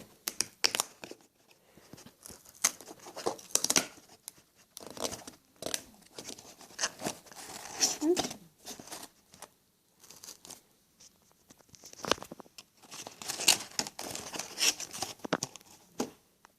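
A Littlest Pet Shop toy tin and its sachets are opened up close, with bursts of tearing, crinkling plastic and rustling wrapper sounds separated by short quiet gaps and no speech.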